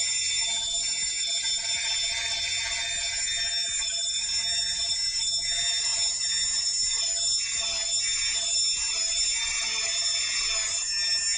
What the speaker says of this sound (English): I'll come through with a smoother Dremel bit and make this real nice.